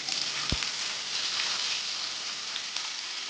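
Chopped onion frying in hot oil for a Bengali-style sole fish curry, a soft, even crackling sizzle close by, with a single dull knock early on.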